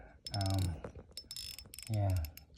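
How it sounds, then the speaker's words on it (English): Ratcheting clicks from the drag clicker of a Daiwa saltwater fishing reel, fairly close, in short bursts set against louder mechanical handling and bumping noises. "I love the sound of the drag clicker"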